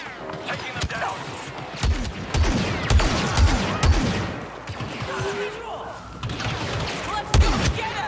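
Rapid blaster and gunfire volleys in the Star Wars Battlefront II video game, repeated sharp loud shots and thuds in irregular bursts over a dense battle din, with soldiers' voices shouting in the mix.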